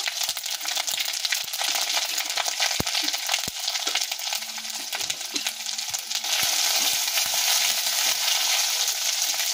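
Hilsa fish with salt and turmeric fries in a pan, a steady close sizzle broken by repeated sharp clicks and scrapes of a spatula stirring, with no talking.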